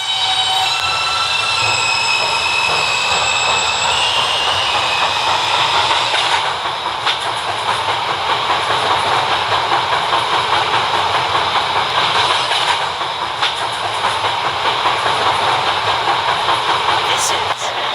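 A Peterborough-bound B train on the 5th Avenue lines runs loud and steady throughout, wheels rumbling and clacking over the rails with occasional squeals, heard from on board.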